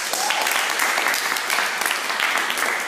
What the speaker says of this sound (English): Can we please have a big round of applause for all the candidates?